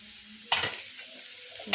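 Red amaranth greens stir-fried with grated coconut, onion and spices are stirred in a pan, giving two short bursts of scraping and sizzle with a soft, steady fry between them and no talk.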